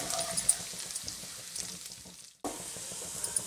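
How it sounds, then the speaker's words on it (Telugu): Masala frying in a pan for Afghani chicken: a continuous crackling sizzle with soft stirring scrapes, cut off briefly before resuming, with no voices. "ఇది బాగా ఫ్రై చేసుకోవాలి, పచ్చివాసన పోవాలి, కొంచెం బ్రౌన్ కలర్ రావాలి"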